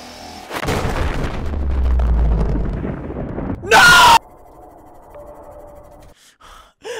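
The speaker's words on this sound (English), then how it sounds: "I hear screaming and I can't tell where it's coming from" Game audio from Subnautica with a loud, piercing scream bursting out after rumbling noise and breathy sounds during a descent to a landing site, followed by quieter ambience and short sharp cries.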